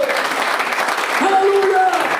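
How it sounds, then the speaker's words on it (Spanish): A church congregation claps in steady applause during a sermon, with voices and a rising shout mixed in over the clapping. "Den un fuerte aplauso a Dios por eso."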